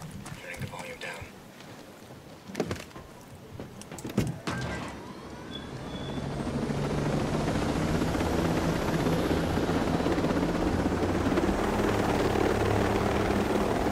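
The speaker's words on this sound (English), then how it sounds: "Right now I want that chopper." A military helicopter in Ghost Recon Breakpoint starts after a few scattered thumps and clicks, then swells into a steady, loud rotor whir and engine drone that holds through the rest of the stretch.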